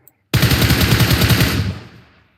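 Gunfire in the mobile battle-royale game PUBG Mobile: a sudden, loud, close burst of rapid automatic fire lasting about a second, then a fading echo tail, with no talk.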